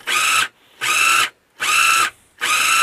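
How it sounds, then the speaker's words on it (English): A Ninja blender motor strains while blending hummus, whining loud and close in four even bursts of about half a second, separated by short silent pauses. "You can really hear that motor of the Ninja"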